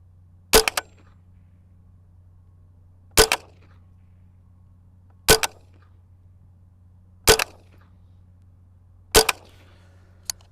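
Five loud, sharp rifle shots fired at a 25-yard target, each a single crack spaced about two seconds apart against a quiet outdoor hum, with a brief echo after each.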